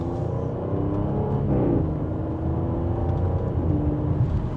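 A 2025 Audi S6 in dynamic mode pulling hard in second gear, its engine and exhaust giving a steady, full, loud drone with a slight rise in pitch, heard from inside the car with no talking.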